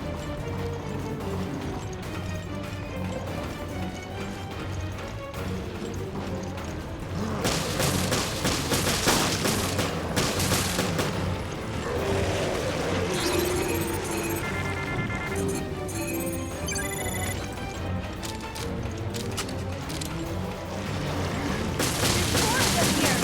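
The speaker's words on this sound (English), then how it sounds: "Don't stop shooting!" Gunfire in the Resident Evil: Revelations video game, a dense, sustained stretch of repeated shots and impacts over loud game music, growing busier partway through and continuing to the end.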